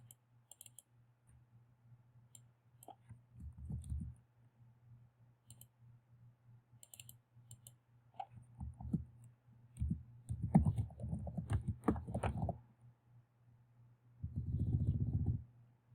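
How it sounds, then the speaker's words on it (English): Quiet, sparse mouse clicks and short bursts of typing on a computer keyboard, entering text into a text box during software use, with scattered close taps and pauses between them. "Double-click the box and add text."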